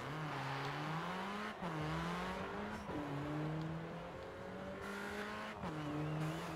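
A BMW M6 in the Forza Horizon 4 racing game revs hard through repeated gear changes, the engine note climbing and dropping in several steady pulls.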